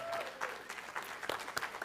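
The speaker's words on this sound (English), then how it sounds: "Let's give her one more round of applause." Audience applause at a church service honoring a singer, a broad steady wash of clapping from a room full of people lasting under two seconds, with brief louder bursts near the end.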